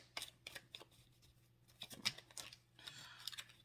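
Tarot cards being shuffled by hand in a quick, somewhat sloppy series of crisp riffling bursts, fairly close and quiet with short pauses between them, no talking.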